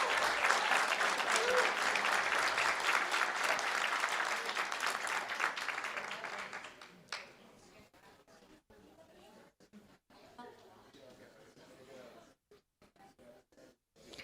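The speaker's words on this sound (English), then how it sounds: "Let's give them a huge round of applause" Applause at a school board meeting honoring retiring leaders, teachers and staff: a loud, dense burst of clapping from an audience that fades after about seven seconds into scattered claps and quiet room noise.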